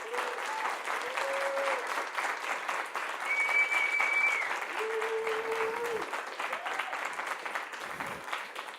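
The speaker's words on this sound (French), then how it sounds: "je vous demande de les soutenir et de les applaudir parce qu'ils ont été très bons" An audience applauds the winners of the Sowee Data Challenge at a prize ceremony, sustained dense clapping filling the room, with a few brief tones layered over the applause.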